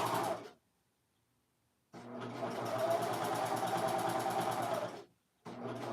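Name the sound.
serger finishing pocket seams of a dress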